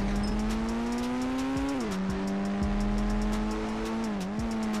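Engine of a yellow Porsche in the video game Indian Bike Driving 3D, a loud steady droning engine tone that dips in pitch twice as it slows under braking, with faint repeated clicks and no talking.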